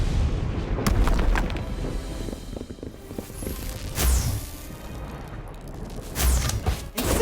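Bombastic bomb spell explosions in Harry Potter: Magic Awakened, a mobile game: several loud booming blasts spaced a few seconds apart, each with a sharp crack and a rumbling tail over steady game noise.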